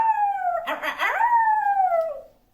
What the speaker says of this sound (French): C'est le chant des loups.